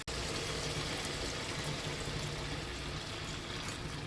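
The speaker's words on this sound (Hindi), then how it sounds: "चलिए पानी डालते हैं हम इसमें" Water poured into a simmering cauliflower kofta curry gravy, a steady close splashing pour lasting throughout with no talk.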